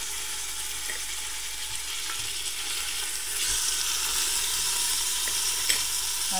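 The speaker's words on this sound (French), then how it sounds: "on va mettre notre viande de bœuf" Beef pieces sizzling steadily in about two tablespoons of hot oil inside a pressure cooker, for a royal couscous; a continuous, fairly loud frying hiss that swells slightly midway, with no talking.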